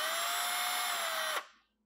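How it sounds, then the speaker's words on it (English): A cordless electric screwdriver spins steadily with a bright, high motor whine, close and fairly loud, then cuts off abruptly and winds down to silence. "This is a cordless screwdriver"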